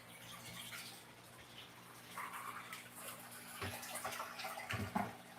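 A hose runs steadily as it fills an aquarium, giving a soft, continuous splashing and gurgling at low volume. Faint taps and clatter mix in near the end.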